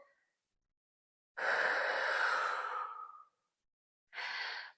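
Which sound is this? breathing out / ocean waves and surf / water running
breathing out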